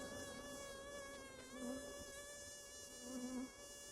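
Honeybees buzzing around a beehive during a hive inspection, a steady close hum of many wings with brief swells as individual bees pass near, no voices.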